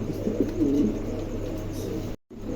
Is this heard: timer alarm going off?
no